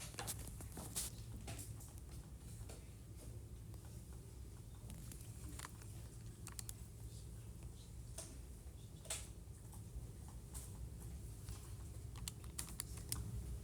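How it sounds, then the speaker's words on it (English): Fingers tap at a computer keyboard while entering a model into a graphing utility, producing faint, scattered key clicks in quick bursts over a low, steady background hum. "I'm going to type in my model"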